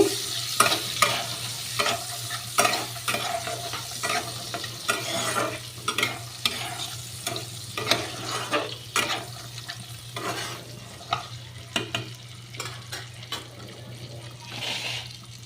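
Green peas fry in a pan with a soft, steady sizzle while a spatula scrapes and stirs in repeated sharp strokes, close up and with no talking.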